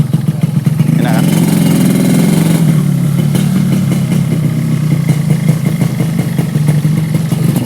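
Yamaha RX-King 135 two-stroke motorcycle engine, near and loud, revving up sharply early on then settling into a steady, sputtering idle, with people talking faintly over it.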